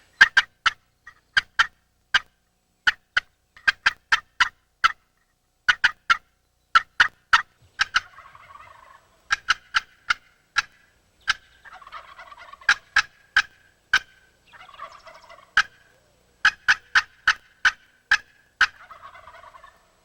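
Wild turkeys during a hunt give repeated sharp bursts in quick clusters across twenty seconds, with softer warbling calls between groups, fairly near in an otherwise quiet outdoor setting.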